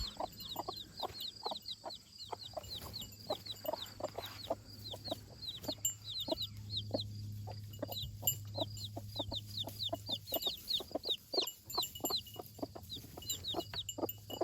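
A hen on a homestead clucks in quick, steady runs, calling her chicks over, while small chicks peep continuously close by and a low hum sits underneath.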